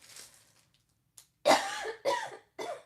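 A few faint breathy sounds, then three loud, close coughs in quick succession, each a sharp, rough burst.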